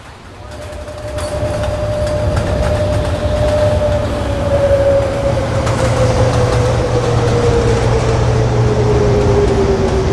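Brooklyn-bound New York subway A Express train at 42nd Street Port Authority station, a loud, sustained rumble of wheels and motors with a falling whine as the train moves along the express track.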